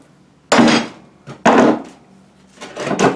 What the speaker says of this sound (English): I take my hammer and I give it a slight whack right over my fault line.